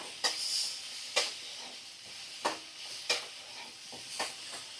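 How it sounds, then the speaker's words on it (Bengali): Katla fish frying with salt and turmeric in a little oil in a pan, a steady soft sizzle and hiss broken by sharp clatters of stirring about once a second, close and alone. "তো দেখো 2 থেকে 3 মিনিট ভালো করে ভাজা করা হয়ে গেছে"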